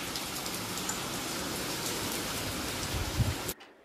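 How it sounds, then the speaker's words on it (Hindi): Heavy rain pours down outside a home in a steady, dense hiss that fills the air, then stops abruptly near the end. "धनाधन बारिश हो गई है शुरू, जोरों से बारिश स्टार्ट हो गई है आज"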